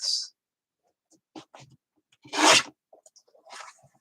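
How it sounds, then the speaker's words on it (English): A thin 1/8 inch strip is trimmed off a paper card in a card-making workshop: a few soft, short scrapes, then one loud, close rasping slice, followed by light handling rustles. "And we're cutting off that 1/8 inch strip."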